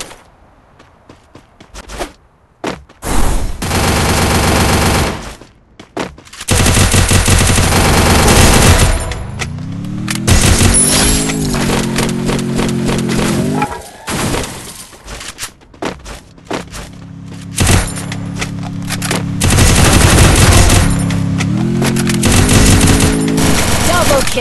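Bursts of automatic gunfire from a solo-versus-squad shooter video game, UMP submachine gun use included, rattle loudly in repeated volleys separated by short pauses, with thuds and other game sounds between.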